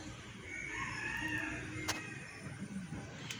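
Chickens inside a poultry farm shed, with a faint, drawn-out rooster-like crow and soft clucking heard at a distance over low background noise.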